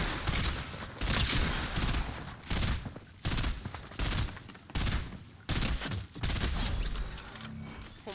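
Gunfire in the battle royale game Fortnite: loud, close automatic weapon bursts repeat in long rapid strings with short gaps between them, dense and continuous across the stretch.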